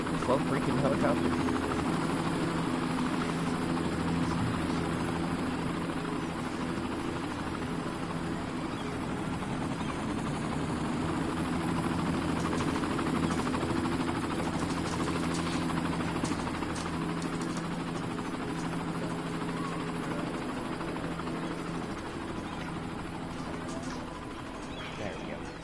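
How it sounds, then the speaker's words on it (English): Several helicopters pass overhead with a loud, constant throbbing rotor roar that fades slightly toward the end, while people talk nearby over the din. "Is that like 12 freaking helicopters?"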